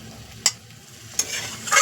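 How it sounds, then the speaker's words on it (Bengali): Chicken being slow-fried and stirred in a pan during kosha gives a low sizzle under two sharp scrapes of a spatula, then a rising hiss at the end. "আমার মাংস কষানো প্রায় রেডি হয়ে গেল"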